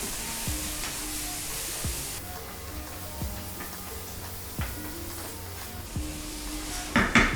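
Masala paste for dhaba-style egg curry frying in a pan, with a low steady sizzle and periodic spatula knocks against the pan about once a second, close, ending in a brief louder scrape.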